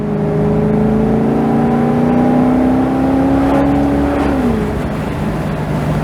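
A Maserati GranTurismo's Ferrari-derived V8 revs loud and close, its tone climbing smoothly before dropping away, with a continuous rumbling roar throughout.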